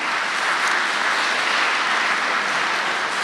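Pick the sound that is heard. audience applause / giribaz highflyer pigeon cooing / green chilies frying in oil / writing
audience applause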